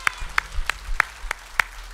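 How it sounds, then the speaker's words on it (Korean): Sharp, evenly spaced claps ring out in a Sunday morning church service: six crisp hits at a steady rhythm, close and fairly loud, with no talking. "하나님께 영광의 박수"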